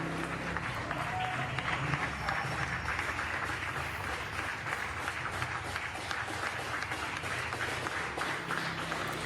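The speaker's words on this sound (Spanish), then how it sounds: "Todos salíamos, los medios, transmitíamos los aplausos al personal de salud" Crowd applause broadcast for health workers in Argentina, March 2020 at the start of the COVID pandemic: steady, dense clapping and cheering from many people, continuous at even loudness with a distant, diffuse texture and murmured voices mixed in.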